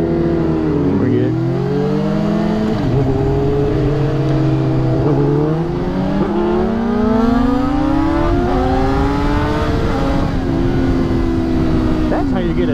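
A motorcycle engine pulls hard in fifth gear, its pitch climbing steadily and loudly through several seconds with a brief dip, close and continuous under wind, while someone talks over it.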